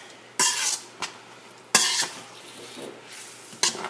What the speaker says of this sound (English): you're just going to continue to kind of let this simmer for about two or 3 minutes until your sauce thickens up